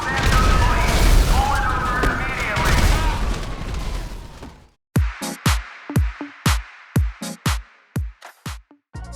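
Rapid explosions from a compact grenade launcher in a video game: a loud rumbling blast at first, then a quick series of about a dozen sharp booms in close succession.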